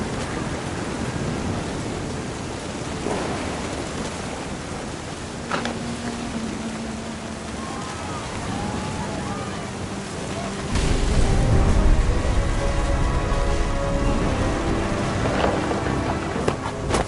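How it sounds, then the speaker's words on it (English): Rain and rumbling thunder in a horror exploration game, a steady hiss of rainfall with low rolls of thunder swelling louder toward the end, heard alone without voices. "The thunder sounded much too close and full of angry power"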